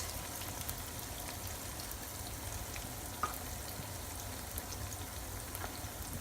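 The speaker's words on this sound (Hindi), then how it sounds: "इसको हम 3 से 4 मिनट फ्राई करेंगे।" Garlic paste and cumin seeds fry with onions in a pan while a vegetarian gobi aloo is being cooked, giving a steady, close sizzle with faint crackles and no talk.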